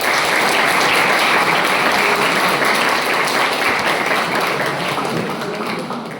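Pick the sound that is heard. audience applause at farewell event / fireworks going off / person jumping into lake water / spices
audience applause at farewell event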